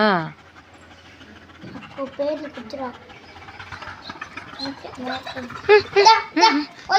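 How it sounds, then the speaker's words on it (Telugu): A German shepherd pants in quick, rhythmic breaths up close, and sharp barks or yelps break in toward the end. Voices talk around the dog at moderate volume. "ఈ జాతి డాగ్స్ అన్నీ ఇలా అరిచేటట్టున్నాయి సేమ్ మ్యాగ్గా అరిచినట్టే అనమాట"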